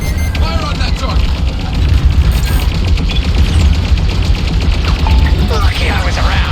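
Starfighter blasters fire in rapid bursts during a Star Wars Squadrons space battle, loud and dense over a constant roaring engine rumble, with radio chatter mixed in.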